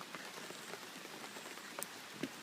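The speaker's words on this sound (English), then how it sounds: "I know it's raining." Steady rain falls outdoors, a dense even patter of drops on surfaces with a few louder splashes near the end, heard alone without talk.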